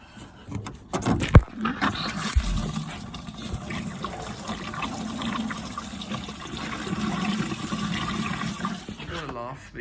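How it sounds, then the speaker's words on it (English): Coolant gushes and trickles out of a Mercedes 107 280SL radiator pipe onto a garage floor, a continuous splashing pour that is close and moderately loud, with a few knocks at the start and no talking. "You should get a cascade of water."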